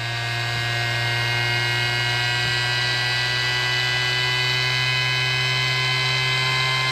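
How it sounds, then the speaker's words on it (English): A small DC air pump powered from a cordless drill battery runs steadily with a constant electric motor whine and buzzing hum, close and unbroken throughout, with no talking. "So you can hear a pump firing up. We got air coming out of it."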